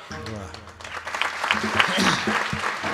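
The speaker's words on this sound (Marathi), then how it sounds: "मी जे अर्थी टाळ्या वाजवल्यात ते अर्थी तुमच्या मनात आहे वाटतं" An audience at a village kirtan, a devotional sermon, breaks into clapping after a man's speech; the applause swells steadily into a dense, sustained wash that fills the rest of the moment.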